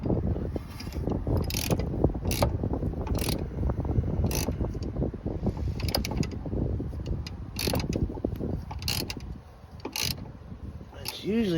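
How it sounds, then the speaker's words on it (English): A ratchet tightens a tie rod on a Ford Taurus, sending out a fast, uneven series of sharp clicks close by while someone talks over the work. "it's time go ahead and finish tightening her up all the way, which I'm pretty close here. I'm tightening."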